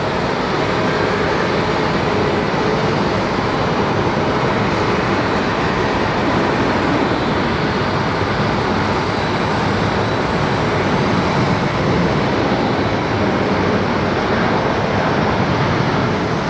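A Shuttle America jet airliner takes off at LaGuardia during a heavy rainstorm, its engines a loud, steady broadband roar that holds for the whole stretch, with no voices over it.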